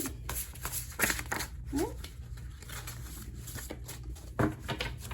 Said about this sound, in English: These don't shuffle terribly well